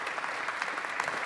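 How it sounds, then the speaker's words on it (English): A brief burst of audience applause at a talk event, a dense patter of many hands clapping steadily at moderate volume for just over a second. "If I may ask a kind round of applause for the beautiful contributions by Janina and Jelmer"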